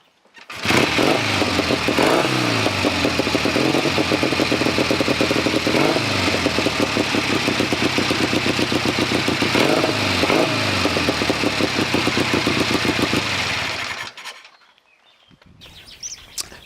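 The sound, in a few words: Triumph Triton 650cc British motorcycle engine running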